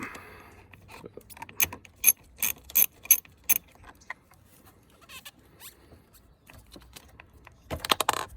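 An 8mm wrench loosening the negative battery terminal nut on a 2006 Ford F250 with a 6.0L diesel, giving a run of sharp metallic ratcheting clicks close by, then scattered quieter ticks and a final brief burst.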